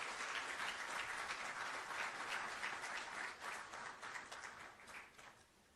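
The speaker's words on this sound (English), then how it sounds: "Shall we please welcome him with an applause" Audience applause at a formal ceremony in Ghana welcoming the Chief Justice to the podium, a dense, steady wash of many hands clapping that gradually fades toward the end.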